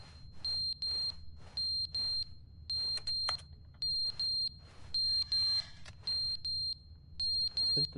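Electronic alarm in the video game The Stanley Parable beeping in a steady repeating pattern of short shrill tones, about ten bursts at even intervals, clear over a low rumbling background.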